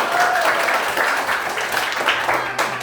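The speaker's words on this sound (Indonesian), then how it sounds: "Oke, tepuk tangan untuk kita semua." Applause from a schoolroom class of students, steady broadband clapping lasting a few seconds with faint voices mixed in.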